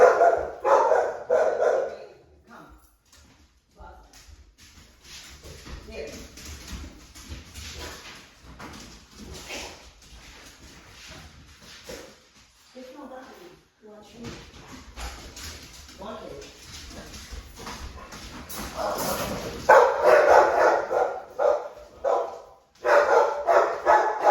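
Dogs bark and whimper at intervals, near and fairly loud, with people talking in between and over them.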